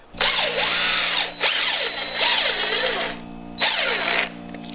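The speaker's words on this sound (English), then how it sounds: "Now we've got to torque all our rods." A power tool whines in a close garage setting on engine connecting rod bolts during an LS engine build, running in several loud bursts with pitch sweeping up and down, separated by short pauses.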